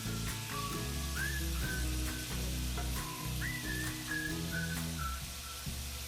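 Lamb pieces stir-frying in a pan on high heat, a dense steady sizzle close up, accompanied by faint whistling tones and a low hum, with no voices.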